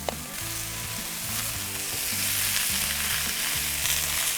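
Jalapeno butter sizzles loudly around potatoes in a cast iron pan on a Big Green Egg grill, a dense, steady frying hiss with faint stirring beneath a low background hum, no voices.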